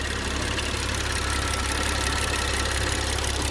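A BMW N55 engine idles close by with a steady, even rumble and a fine rhythmic ticking throughout; no voices.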